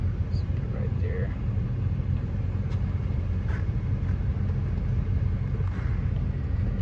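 A 2004 Chevrolet Silverado 2500HD with the 6.6L diesel and 4wd idles in a steady, low, droning rumble, close and constant, with a few faint sounds over it.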